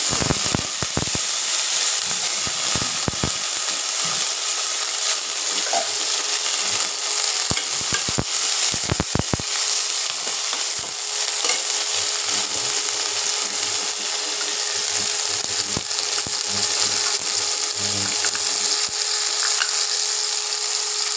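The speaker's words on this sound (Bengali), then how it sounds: "তেল গরম হয়ে গেছে বন্ধুরা, একটু টমেটো আর লঙ্কা" Tomato and green chilli fry in hot oil for a mixed vegetable curry, giving a loud, continuous hissing sizzle throughout with a few scraping clicks near the start, no talk.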